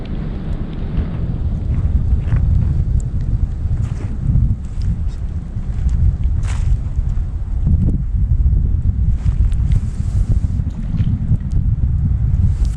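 Strong gusting wind buffets the microphone at a lakeside tent campsite at Lake Carlos State Park, a constant loud low roar with flutter and rustling for the whole stretch.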